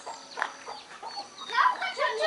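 Chickens and a chick cluck and chirp in short bursts on a farm, loudest toward the end, while children talk over them.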